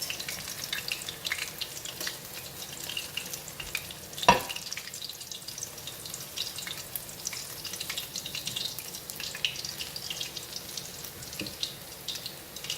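Gulama fish frying in oil, a continuous crackling sizzle close by, with one sharp clink midway and soft rustling movements, without talk.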